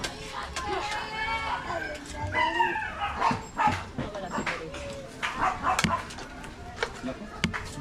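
Dogs bark, yip and whimper in short bursts close by, mixed with people talking over them in an outdoor setting.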